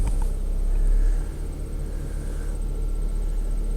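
A Mazda 6 engine idles after a no-crank, no-start problem, giving a deep, steady low rumble, close and continuous, swelling a little in the first second before settling.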